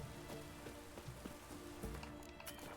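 Steady rainfall in The Witcher 3 video game patters on a surface, a continuous wet hiss with scattered drops and faint low thumps underneath.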